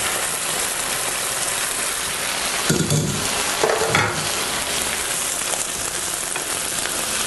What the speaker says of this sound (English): And then we stir this all around together.